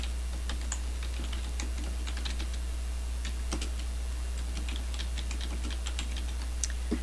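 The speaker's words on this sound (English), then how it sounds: "and then type your text." Someone types on a computer keyboard, entering text into a Microsoft Word document. Quiet, irregular key clicks tap along steadily for several seconds over a low constant hum, with no voices.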